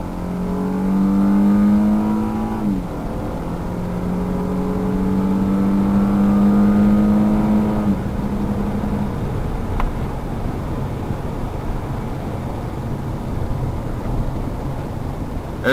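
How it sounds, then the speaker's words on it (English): A stock car's V6 engine revs loudly up through two rising pulls with gear shifts between them, then settles into a rough, steady drone as the car cruises. "I'll give you a little bit of a performance show now. Let you hear the engine."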